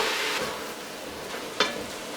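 Fresh spinach being stirred into a frying onion mixture in a pan for Afghan Badakhshan ash, a steady soft sizzle with a brief scrape of the spoon near the end.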